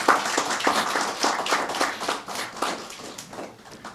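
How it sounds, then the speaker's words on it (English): Audience applause at a loan grant signing ceremony for a youth economy agency, a dense burst of many hands clapping close by, steady then slowly thinning toward the end. "give them a round of applause"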